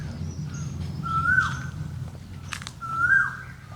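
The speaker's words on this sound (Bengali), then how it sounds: "আবার কোকিলের ডাক" An Asian koel gives two rising whistled calls, a couple of seconds apart, moderately close, with faint chirps from other birds and a low steady breeze underneath.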